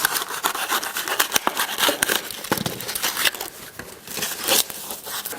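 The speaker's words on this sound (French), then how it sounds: "je découpe la sous-couche pour qu'elle suive le mieux possible le mur" Floor underlay being cut along a wall while laying engineered floating parquet, a continuous close scraping, crinkling and rubbing of material with irregular sharper snips and tears throughout.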